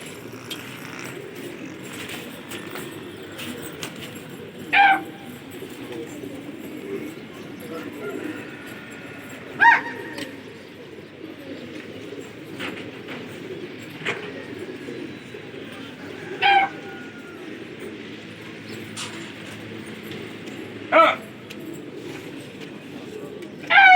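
Pigeons are let out during a pigeon-flying match, with sharp calls repeating at roughly five-second intervals over a steady murmur of outdoor background noise and voices.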